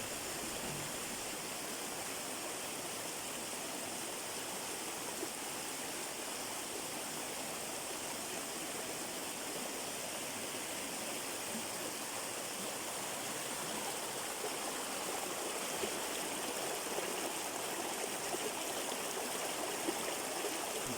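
Algama Falls in Sri Lanka pours steadily, a dense unbroken roar of falling water that stays even and close for the whole stretch, with no voices.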